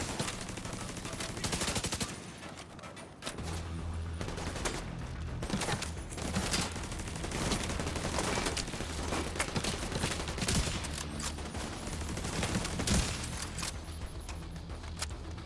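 Sustained gunfire in The Division 2 rattles through, with rapid automatic bursts and sharp single shots layered over one another, loud and continuous apart from a brief lull early on.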